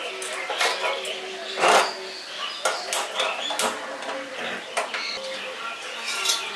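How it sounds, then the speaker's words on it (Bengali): An iron kadai is set down on a gas stove in a village kitchen, giving a single sharp metallic clank amid lighter scattered clinks, with a person talking over it. "এটা কড়াই বসিয়ে দিচ্ছি"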